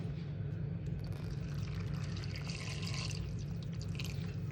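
Water poured into mutton curry in a pot, a soft continuous trickle and dripping under a low steady background hum.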